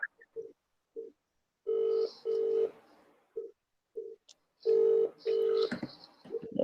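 Telephone dialing tones beep out in short keypad bursts, several brief pips mixed with longer sustained tones in two clusters, fairly clear with no talk over them.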